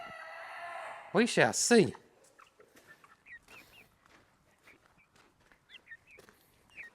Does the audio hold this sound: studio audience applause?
no